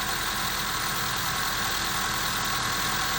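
A car engine idles steadily with a faint vibrating rattle, linked to low, dirty oil, a continuous mid-pitched drone that holds even and close throughout.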